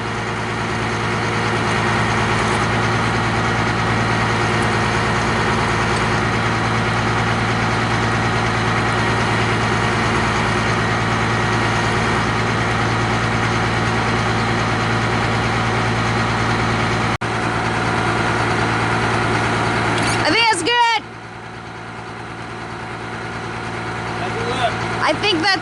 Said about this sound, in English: we'll take the pressure off the winch by lifting with the crane until we get it to the right height